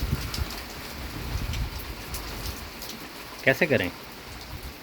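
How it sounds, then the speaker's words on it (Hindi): Heavy downpour drumming steadily on surfaces outdoors, a constant dense hiss close by, with a brief voice speaking partway through. "लेकिन इतनी तेज़ बारिश में"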